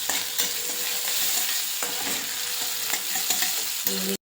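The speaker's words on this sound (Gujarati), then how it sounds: "આપણે થોડી ગોલ્ડન શેકવાની છે થોડી શેકાઈ ગઈ છે" Crumbled bajra rotlo being stirred and roasted in a pan for vagharelo rotlo, a soft steady sizzle with occasional spoon scrapes and taps, close, ending abruptly.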